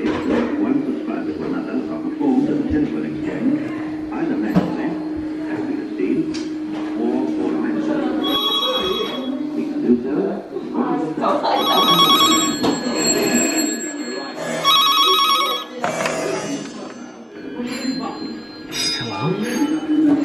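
An old telephone bell at Amberley Museum rings in several sharp, bright bursts through the second half, sounding close and clear over steady chatter and nearby voices.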